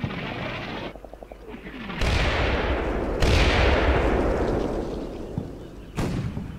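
High-explosive shell fire in the wargame Combat Mission, with several heavy booming impacts in sequence, each sharp onset trailing into a long rumbling roll, loud and close.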